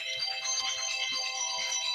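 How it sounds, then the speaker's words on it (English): A phone ringtone plays steadily and fairly loud, its bright repeating tones carrying through the whole stretch with only faint low rumble beneath and no voices. "my phone is ringing like right on time."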